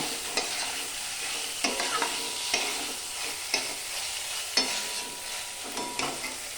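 Chhana (cottage cheese) fries in a pan with a soft, continuous sizzle, punctuated by regular spatula strokes roughly once a second, fairly quiet and close.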